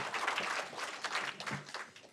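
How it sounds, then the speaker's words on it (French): A small audience gives brief, quiet applause at a kamishibai storytelling session, a soft patter of clapping over about two seconds, somewhat distant and uneven. "Est-ce qu'on t'applaudit pour te redonner du courage?"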